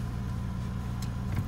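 A 1988 BMW M6 Coupe engine idling smoothly just after starting, a steady low rumble held close and even for a moment, no speech.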